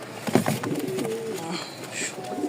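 Rajshahi pigeons coo in a few soft, rounded calls close by, with faint chirps and light background noise.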